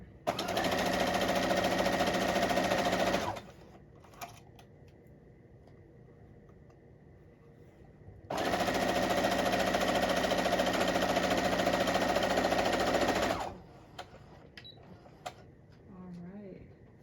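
Sewing machine stitching a quarter-inch seam on a quilt top: two rapid, steady, close runs of stitching, about three and five seconds long, with quiet handling noise between them.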